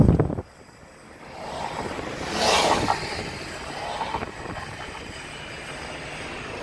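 Airbus A380 passenger plane landing: a distant, broad jet roar that swells to a peak and then fades back, with wind buffeting the microphone throughout.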